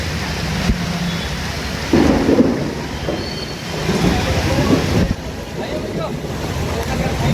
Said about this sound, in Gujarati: આ બહુ જ વરસાદ છે વધારે